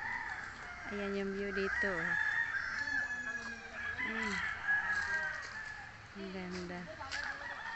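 A rooster crows repeatedly among clucking chickens on a farm in Bulacan, the calls fairly close and clear while a person speaks briefly in the foreground.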